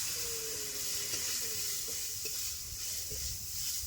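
Grated coconut frying in a pan with ginger and turmeric gives a steady close sizzle, with light scraping stirs now and then throughout.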